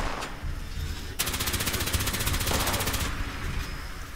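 Rapid automatic gunfire from the video game Fallout 76 rattles in a fast, even burst lasting about two seconds, loud and close over a dense background of game noise.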